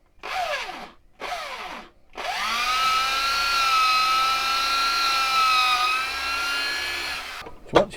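A power drill bores holes through a Bowie knife blank backed by a piece of wood. Two short bursts spin up and down, then a long, loud, steady whine runs for about five seconds before cutting off with a clunk.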